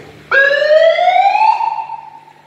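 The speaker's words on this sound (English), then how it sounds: "But the best thing about this is the siren." A loud electronic siren wails close by, starting abruptly and rising slowly in pitch for about two seconds before trailing off.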